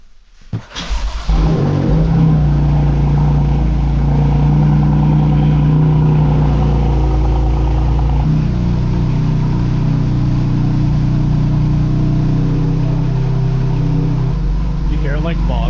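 A rebuilt, previously totalled BMW M4 cranks and fires up, then settles into a loud, close, steady exhaust rumble with a shift in pitch midway, and people talk faintly nearby.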